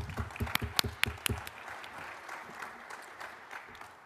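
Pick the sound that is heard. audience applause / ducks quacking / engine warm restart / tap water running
audience applause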